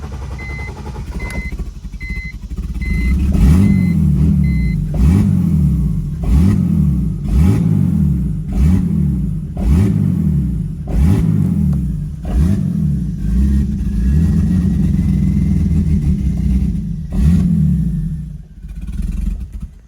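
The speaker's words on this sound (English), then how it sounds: "She won't idle and she runs like crap, but she runs." A BMW 330ci with a turbo setup runs rough and will not idle, its engine surging in a steady, loping rhythm of rises and dips that carries on loud and close throughout, with no talk over it.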